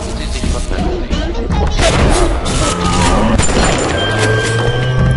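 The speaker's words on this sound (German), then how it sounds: "Ja, schmeiß wieder deine Granaten." Grenades explode in Bioshock amid a chaotic firefight, with dense booms, crashes and thuds running continuously and loudly throughout, with little speech.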